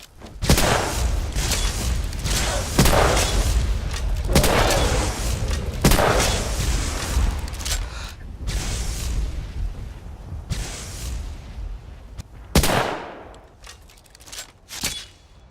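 Guns fired in a Skyrim mod video game: loud, rapid bursts of gunfire with sharp blasts and booms repeating through the whole stretch, some shots rolling into echoing tails, followed by a few final isolated shots.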